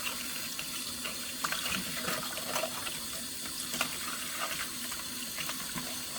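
Tap water runs steadily over eggshells held in a strainer at a sink, a continuous close hiss and splash with faint clinks and shifts in the flow, no voices.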